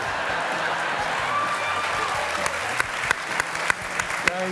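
Audience applause fills a comedy talk-show studio, a steady dense wash of clapping from the crowd with a few sharper claps near the mic standing out toward the end, no speech over it.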